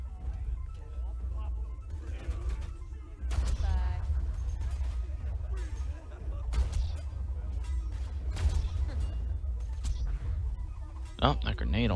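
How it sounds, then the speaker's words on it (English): In Borderlands 2, scattered gunshots and a grenade blast crack through busy combat noise, with a sharp burst of fire near the end. "Oh, that grenade almost got us."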